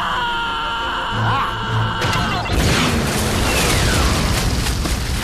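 Jets firing on a giant robot in a cartoon, a loud sustained roaring rush with booming blasts and a sweeping whine over a continuous dense rumble.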